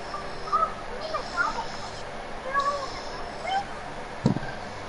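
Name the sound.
bird call in the video game Genshin Impact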